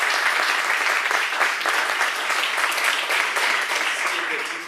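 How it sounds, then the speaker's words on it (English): A crowd at a District 1 candidate forum in McAllen claps steadily and loudly, a dense, continuous applause that tapers slightly at the end. "Everyone, let's give them a round of applause."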